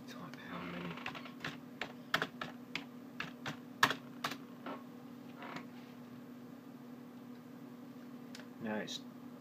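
Scattered clicks of keys being tapped on a computer keyboard, irregular and close, over a faint steady electrical hum.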